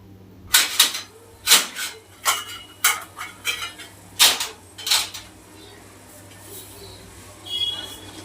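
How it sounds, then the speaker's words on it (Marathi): A plate being taken out in a home kitchen while making laddoos, with a string of sharp dish and cutlery clatters, about eight quick clinks in the first five seconds, close and fairly loud, then quieter handling. "गॅस एकदम बारीक करून ठेवायचा आता आपण आणि एक प्लेट घ्यायची"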